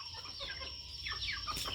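Turkeys clucking and gobbling in short bursts over steady farmyard background noise, fairly close, with no talking.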